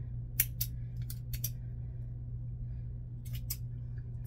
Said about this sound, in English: I also trim the little plastic piece so it's not so sharp